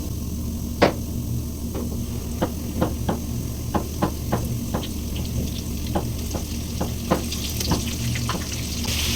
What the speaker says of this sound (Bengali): তেল গরম হয়ে গেছে, এখন চিকেনটা এটার সাথে ভালো করে মাখিয়ে ছেড়ে দিতে হবে।